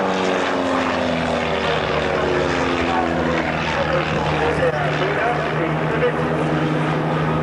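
A propeller aircraft drones loudly overhead during a flying display at the RAF Valley Air Show on Anglesey, its engine tone sliding steadily downward as it passes, with a commentator's voice running over the noise.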